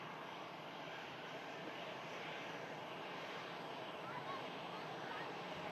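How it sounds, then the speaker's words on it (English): EasyJet airliner arriving from Amsterdam, a steady broad jet engine roar at moderate distance, faint and continuous throughout. "EasyJet arriving in from Amsterdam."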